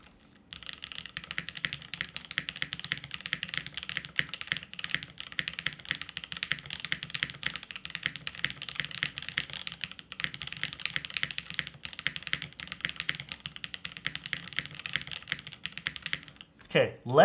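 Rapid, steady keystrokes on a W1-AT custom mechanical keyboard, close and clear, keep a dense clacking rhythm for about sixteen seconds before stopping abruptly.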